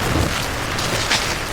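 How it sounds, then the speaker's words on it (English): Heavy rain in an AI-made movie set in deep woods pours as a loud, dense, continuous wash, with a slight low rumble and a brief swell near the end, no talking. "Rain's beating the paint off the world and I'm still rolling."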